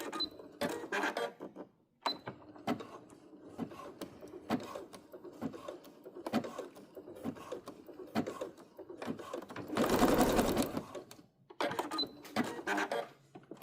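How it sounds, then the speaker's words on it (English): A sewing machine runs a zigzag stitch across two pieces of elastic on a bridesmaid dress sleeve. Short whirring bursts come between pauses, with one longer, louder run near the end, and no talk. "I'm going to switch to a zigzag stitch, and I'm going to zigzag across that and attach those two pieces of elastic together."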